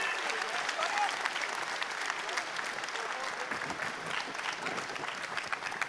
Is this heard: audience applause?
yes